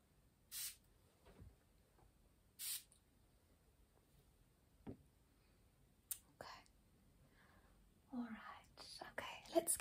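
A few short, soft bursts of mist spraying at close range, with quiet rustling and faint whispered talk between them.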